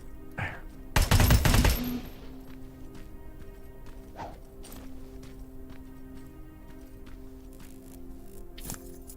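Gunfire from a weapon in the video game Terminator Resistance, aimed at a small spider enemy: a loud rapid burst of shots early on, then a quieter game backdrop broken by occasional sharp clicks and ticks.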